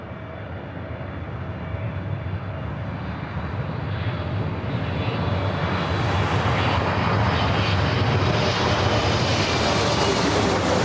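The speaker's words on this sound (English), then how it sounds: "Speedbird 777-300ER coming in from London Heathrow." British Airways Boeing 777-300ER arriving at Los Angeles from London Heathrow, its jet engine roar building steadily from a moderate rumble to a louder, nearer rush with a rising whine, no voices.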